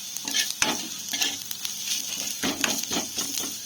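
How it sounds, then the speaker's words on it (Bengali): Onion, green chilli, ginger-garlic paste and chilli flakes sizzle in a pan while a spatula stirs them in repeated scraping strokes, loud and close over a constant frying hiss. "এটিকে ভালোভাবে নাড়াচাড়া করে নেবো"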